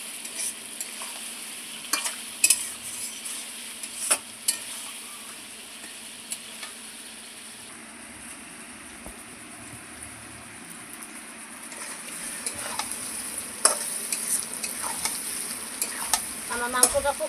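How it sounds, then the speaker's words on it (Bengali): Mutton and potatoes are stir-fried in a pan for a curry, making a continuous close sizzle with frequent scraping stirs and clatters throughout. "এই আলু আর মাংস আবারও খুব সুন্দর করে কষিয়ে নেব"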